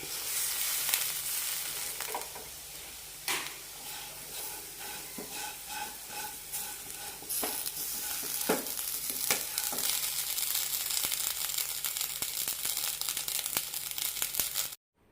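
Colocasia masala fry being sautéed in a pan, a continuous close sizzle broken by scraping stir strokes and sharp clicks of a spatula, steady throughout and stopping abruptly at the end.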